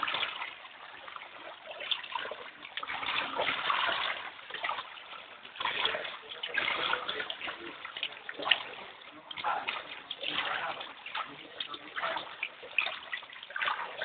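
Floodwater in Dagupan splashing and trickling steadily, a continuous wash of moving water with uneven surges, fairly faint and close, with occasional voices.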